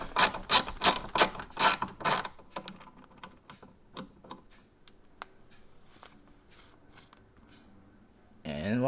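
Rapid ratchet clicks from a socket wrench unscrewing a bolt while installing an OEM turn signal on a Subaru WRX, starting with loud bursts and trailing into softer, scattered clicks, with a louder clatter at the end.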